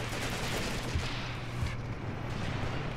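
Machine gun and rifle fire rumble through a Graviteam Tactics: Mius Front battle, a steady, fairly faint wash of overlapping shots with no clear gaps across the whole stretch.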